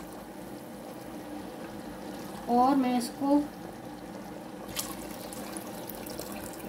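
Water trickling and pouring into a pressure cooker with mutton for a mutton karahi, a steady faint flow heard under someone talking.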